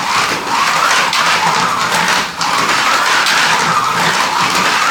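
Small 1/43 scale slot cars run on a compact toy track, making a loud, continuous whirring buzz of electric motors and rolling wheels with a brief dip in the middle.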